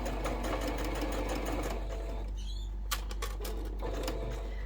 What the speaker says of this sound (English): So let's bring that sewing machine back.